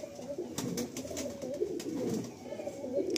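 Pigeons coo steadily inside a loft where birds are kept for sale, a low murmuring that carries throughout with a few brighter wing or movement sounds on top and no talk.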